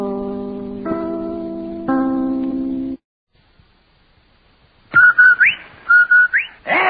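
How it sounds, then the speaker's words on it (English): The Rinso White radio advertising whistle, a tonal rising two-note whistle, repeats twice and then starts a third time, preceded by sustained organ-like chords and a short silence. "That whistle. That's the Rinso White whistle."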